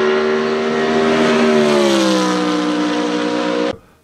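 A BMW Z4 GT3 race car engine howls loud and close in a single sustained note that shifts pitch as it passes, then cuts off abruptly near the end, with no voices.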